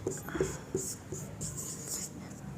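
Pen or chalk scratching out a percentage sign and numbers during a maths lesson, in short strokes and scrapes up close, with faint speech in the background.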